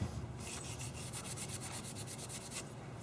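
A small piece of Scotch-Brite pad lightly rubbing the head gasket surface of a Kohler Command V-Twin engine, a quick run of rhythmic back-and-forth scrubbing strokes, close and fairly loud, with no talk.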